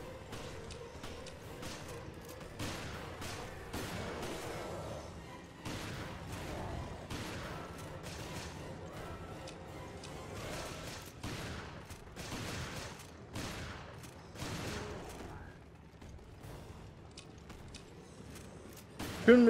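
Gunfire in the co-op video game Resident Evil Revelations, a steady run of sharp shots at irregular intervals, mid-loud and close, with game sounds between bursts.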